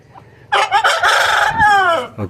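A fighting rooster crows loudly and close by, one long strained call that rises and then trails off.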